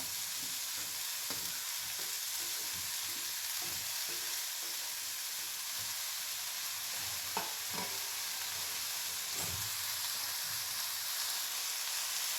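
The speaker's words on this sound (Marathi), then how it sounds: "आता या स्टेजमध्ये आपण ही पालेभाजी चवळीची घालूया" Cowpea leaves dropped into a pan of onion frying in oil give a steady, close sizzle with occasional stirring clatter and a few sharp clicks, with no talking.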